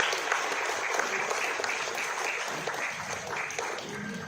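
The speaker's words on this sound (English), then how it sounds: "A big round of applause for Mr. Shyam Thapa." Steady audience applause at a sports carnival closing ceremony at Calcutta Club, honouring a welcomed guest; dense, continuous clapping from a mid-sized crowd holds evenly for several seconds with no voices over it.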